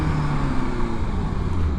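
A Honda CBR600RR sport bike, a rebuilt wreck, accelerating hard in first gear into a power wheelie, a loud continuous engine roar with wind rush, close and steady, no talking.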